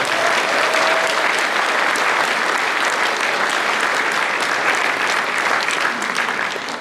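Loud, sustained applause fills the hall at a People Power Party South Chungcheong members' education and chapter chair inauguration ceremony, dense clapping from a large crowd that holds steady throughout.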